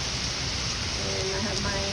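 Heavy rainstorm pouring down on potted hoya plants, a steady dense hiss of rain close by with no breaks, fairly loud throughout.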